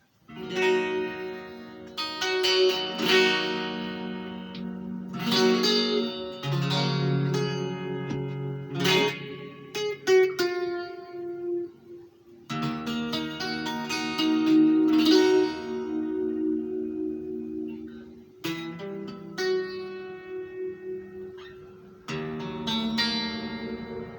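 An electric guitar plays chords and notes through a Vox Stomplab IIG's univibe effect, giving a swirling, throbbing modulation with lush spring or hall reverb tails, alone and fairly close.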